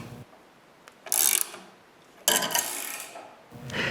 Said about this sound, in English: Pass the threaded rod inside the blade's holes and tighten it to the blade.